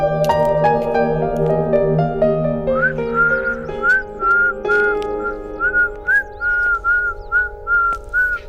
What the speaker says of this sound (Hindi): तुम मुझे बिना देखे ही सीटी मारने लगी